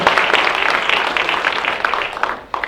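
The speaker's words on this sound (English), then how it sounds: "Let's give a big round of applause for our Mentor College volunteers and all of our contestants" Crowd applause at a holiday community game-show event honoring college volunteers and contestants, a dense steady wash of clapping that fades slightly near the end.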